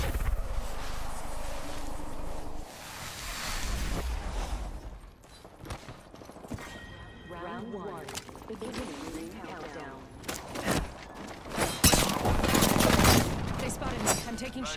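In the Apex Legends video game, gunfire rattles toward the player in rapid volleys and bursts, building to loud, dense automatic fire near the end, with game voice lines and talking mixed in.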